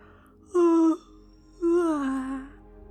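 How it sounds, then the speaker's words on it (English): Someone yawns twice in a quiet room, each a drawn-out voiced breath of about half a second to a second, the second longer and sliding downward, with no other sound around them. "You just need to yawn."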